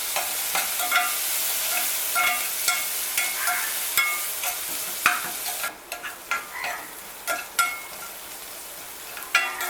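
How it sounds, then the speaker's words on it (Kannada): Cumin, turmeric, green chili and garlic frying in a pan, with a continuous hiss and frequent sharp scrapes and clinks from stirring, loud and close. "ಬೆಳ್ಳುಳ್ಳಿ ಹಸಿ ವಾಸನೆ ಹೋಗುವವರೆಗೂ ಇದನ್ನ ಚೆನ್ನಾಗಿ ಈ ರೀತಿ ಫ್ರೈ ಮಾಡ್ಕೊಳ್ಳಿ"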